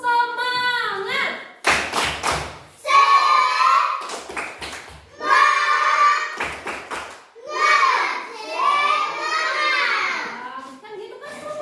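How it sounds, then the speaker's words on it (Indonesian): A school class performs the 'tepuk semangat' spirit-clapping routine: children chant loudly together, broken by several sharp bursts of rhythmic group clapping. "Ayo untuk membangkitkan semangat kita tepuk semangat dulu."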